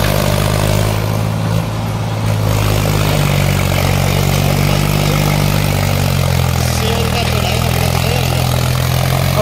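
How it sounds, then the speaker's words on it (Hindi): A Kubota MU 5501 tractor engine pulls hard in third gear with a loud, steady diesel drone and a deep low rumble. The sound stays close and constant throughout, with faint background noise. "अरे ये देखो भैया पावर लगा रहा है, देखो और तीन नंबर दे रखा है भाई ने गियर"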